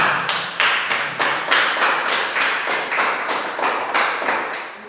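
Church congregation at a Pentecostal service clapping in a steady rhythm, about a dozen loud, evenly spaced claps in unison, close and continuous with no talk.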